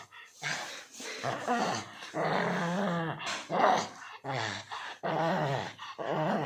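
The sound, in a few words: dog growling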